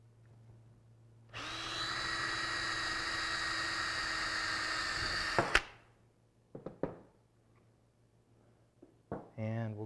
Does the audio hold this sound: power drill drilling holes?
yes